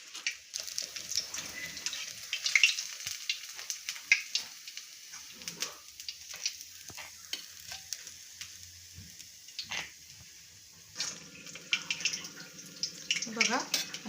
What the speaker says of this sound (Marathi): बघा असे सोनेरी रंग येईल कबाब आपल्याला तळून घ्यायचे.